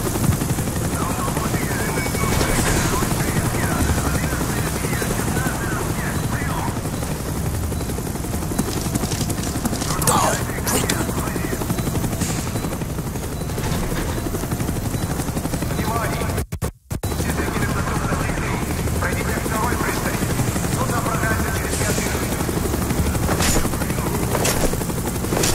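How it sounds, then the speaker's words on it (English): Helicopter in the Call of Duty Black Ops video game, a loud, sustained rotor drone running the whole way with sporadic gunfire bursts and scrapes, voices speaking over it, and a brief dropout near the middle. "Here goes the helicopter."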